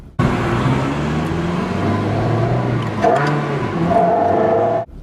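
A Ferrari sports car engine revs loudly and close by, a steady throaty roar with rising and falling pitch over about five seconds, ending abruptly.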